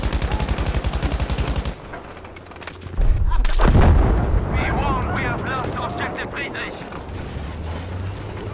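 Gunfire and booming blasts in the Battlefield 1 video game, heavy and continuous with loud impacts midway, mixed with voices chatting over game audio.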